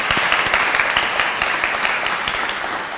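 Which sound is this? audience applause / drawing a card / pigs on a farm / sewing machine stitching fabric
audience applause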